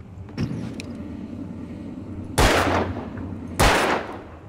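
Two sharp, loud gunshots at steel cans in the video game Alan Wake, a little over a second apart, cutting through a steady low engine-like rumble.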